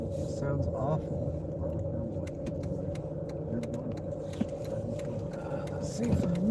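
A car engine with a faulty, awful-sounding noise runs in a continuous low rumble from inside the vehicle, with a few faint clicks and small thumps over the drone.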